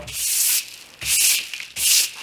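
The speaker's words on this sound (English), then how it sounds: "I'm just going to brush this clean." A brush sweeps across a wooden board for a DIY coffee table before glue-up, three close, loud bristly strokes in a steady rhythm with short pauses between them.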